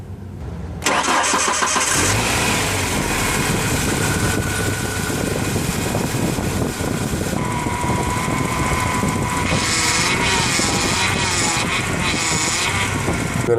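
A car engine cranks and catches after a power steering fluid change, then settles into a steady, loud idle that runs on alone.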